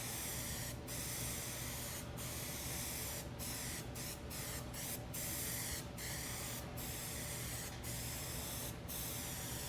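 Continuous close hiss of a spray gun laying a second coat of paint on a 1972 Chevrolet El Camino body, steady and dense, broken by short gaps where the trigger releases, no talking.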